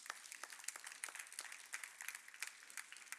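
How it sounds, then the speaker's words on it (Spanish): Churchgoers applauding during an evening sermon, a faint, distant patter of many hands clapping in a quick, uneven rhythm with no talk over it. "Si usted lo cree, dele un fuerte aplauso al Señor"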